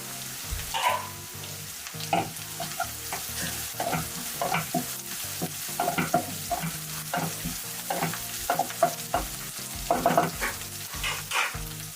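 Curry leaves dropped into hot oil for veg manchurian, a steady frying sizzle with repeated scraping and clinking stir strokes across the pan, close and fairly loud, no voices.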